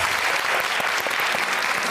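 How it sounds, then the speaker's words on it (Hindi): A crowd on a TV show stage claps loudly and continuously after a dance and band performance, a dense, steady wash of applause from start to finish. "एक दफा बहुत जोरदार तालियां जो है इनके डांस के लिए, हमारे बैंड के लिए और अमजद के लिए।"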